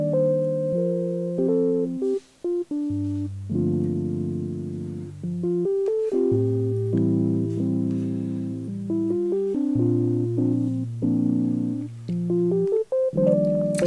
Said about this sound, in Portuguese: Esse é o som do Prophet puro.